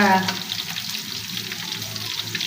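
Fish sizzles in hot oil with a steady, close, crackling frying hiss throughout, and a brief voice is heard at the start.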